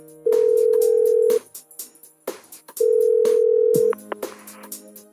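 In Persona 4 Golden, a telephone calls a home phone, giving two long, steady ringback tones separated by a pause, with faint clicks and a brief lower tone between them.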